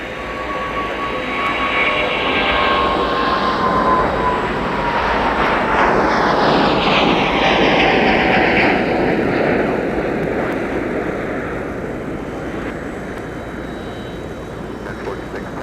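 An airliner taking off at Minneapolis–St. Paul airport in winter, a loud sustained jet roar that swells and shifts in pitch as it passes, with a radio voice faintly underneath.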